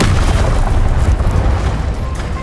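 The Incendio fire spell is cast in the video game Hogwarts Legacy, producing a loud, dense burst of roaring flame and rumble that fills the whole moment and slowly eases off, with no voices.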